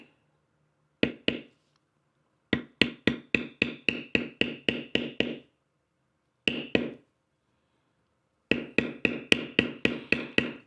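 A steep-angle beveler is struck with a mallet to tool leather, giving sharp, close wooden taps in quick even runs of about eight to twelve strikes, separated by short silent pauses.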